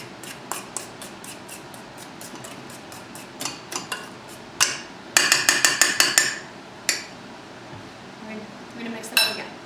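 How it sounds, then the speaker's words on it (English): Spatula scraping and clinking against a mixing bowl while brown sugar cinnamon loaf batter is worked, with sharp irregular knocks growing into a rapid cluster midway, then a few sparse taps near the end. "I'm going to scrape the sides of the bowl"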